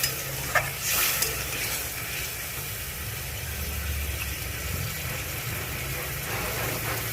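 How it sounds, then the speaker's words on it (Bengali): Water added to sizzling chicken gravy in a pan, a brief splash and burst of hiss at the start, then a steady bubbling simmer with stirring. "জলটা দিয়ে দিলাম"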